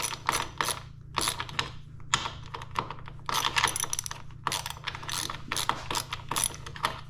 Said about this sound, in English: So loosen these up.